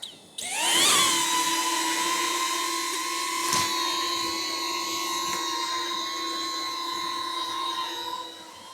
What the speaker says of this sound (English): I'm just going to use the gesture control to position the drone where I want it